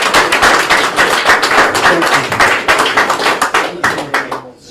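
An audience applauds for Ali at a church testimony gathering, a dense, loud round of clapping that carries steadily before thinning and fading out at the end.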